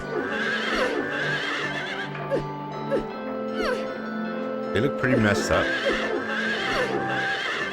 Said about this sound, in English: Why am I beating up horses?